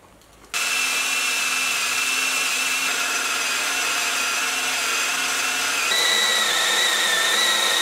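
A power drill boring holes in 20mm thick metal plate starts abruptly after a brief quiet moment, then holds a loud, steady motor whine that shifts pitch slightly near the end, with nobody talking.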